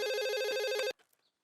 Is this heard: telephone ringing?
yes